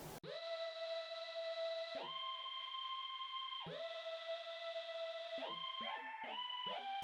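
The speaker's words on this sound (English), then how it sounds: "the Vintage Box Organ on its own sounded like this" A Vintage Box Organ virtual instrument plays a reedy melody of held notes, with long tones early and quicker note changes toward the end, heard alone without drums or talk.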